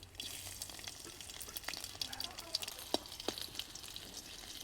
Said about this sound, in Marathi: लसूण छान परतून द्यायचा आहे